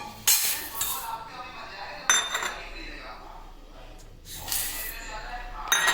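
Rice and toor dal are rinsed by hand in a metal vessel, with splashing swishes of water and grains coming in several separate bursts, and faint clinks from the vessel between them.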